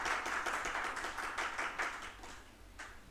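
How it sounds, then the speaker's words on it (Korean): A church congregation clapping during an afternoon Sunday service, a quick burst of many hands applauding together, moderately close and fading slightly toward the end. "박수 한번 해주세요."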